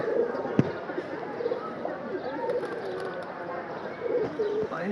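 Pigeons in a loft setting coo softly and intermittently over a steady bed of ambient noise, with a few sharp knocks and thuds scattered through.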